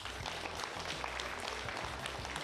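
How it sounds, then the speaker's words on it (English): Applause from a school assembly audience, steady mixed clapping for the full stretch with no voices on top. "let's give a huge round of applause for them"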